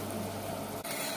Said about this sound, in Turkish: gördüğünüz gibi kaynıyor şu anda şerbetimiz.